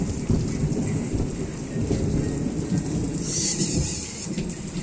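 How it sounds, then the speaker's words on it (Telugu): Heavy rain pours steadily with deep rolling thunder rumbling through it, loud and continuous, with no voices over the storm. "అమ్మో చాలా భయంకరంగా ఉందండి ఈ వర్షం, ఉరుములు."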